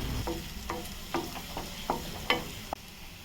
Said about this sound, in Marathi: फोडणीला जिरं, कांदा आणि कढीपत्ता टाकला.